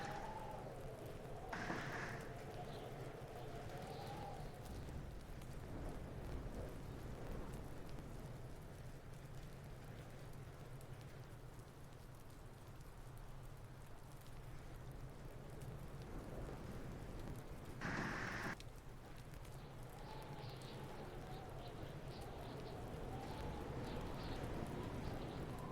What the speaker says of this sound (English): The rain is also above my noise floor